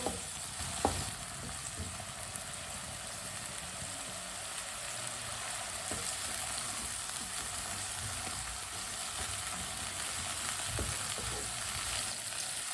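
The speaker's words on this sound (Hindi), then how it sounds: "आधी चमची साबुत जीरा। आधी चमची साबुत धनिया। 1 मिनट के लिए पका लेंगे सब चीज़ों को।" Whole cumin and coriander seeds fry in a pan with a steady, soft hiss and faint stirring scrapes. A low hum runs underneath, and no one talks.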